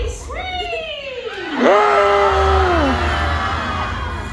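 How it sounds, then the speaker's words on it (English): A crowd at a Magic Kingdom show bursts into loud, rising and falling screams and yells, many overlapping voices swelling together near the middle over a noisy park background. "That would make everybody scream!"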